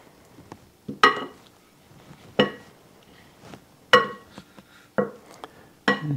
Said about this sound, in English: I'm hitting the plate, and I know it's making a loud noise.